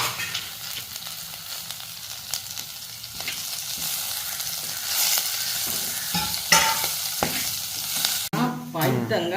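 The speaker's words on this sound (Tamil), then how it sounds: "சரி இன்னும் வதங்கி கொண்டு வருது இந்த மண் சட்டிக்கு" Onions sauté in a clay pot over the heat, giving a steady frying sizzle that carries throughout. Scrapes and stirring knocks sound close by, with a brief sharper clatter near the end.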